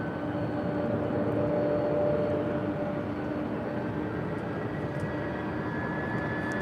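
A jet airliner approaching to land on runway 24 right at LAX gives a steady, broad engine roar with faint whining tones, heard from a distance and holding an even level throughout, with no voices.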